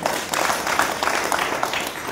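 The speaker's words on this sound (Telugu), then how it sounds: "ఏమైనా చప్పట్లు కొట్టండి అన్నకి." Audience applause for the founder president of a safety drivers association at a gathering: a steady wash of many hands clapping, fairly close and continuous for a couple of seconds, with no voices over it.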